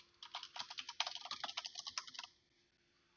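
Keys on a computer keyboard clatter in a fast, uneven burst of typing, close and fairly quiet, before falling silent near the end.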